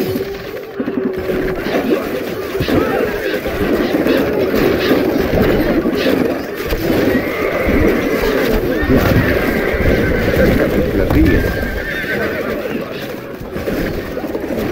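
Horses neigh and whinny repeatedly over a dense game soundtrack of clip-clopping hooves and battle noise in the Stronghold Crusader strategy game, loud and continuous throughout.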